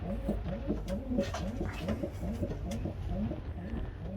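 Pigeons coo steadily in a breeding loft, a repeated rolling, throaty call pattern from several birds overlapping close by, with faint rustling and no talk.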